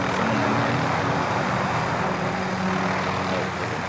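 Airplane engine in the video game CoD Warzone, a dense, steady roar filling the whole stretch at high loudness, with no talking.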